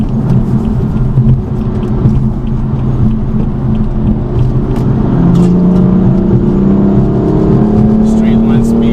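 A BMW F82 M4 on Nitto NT555 G2 tyres driving fast over a bumpy road, loud cabin engine drone and tyre rumble with a rising rev tone near the end, someone talking over it.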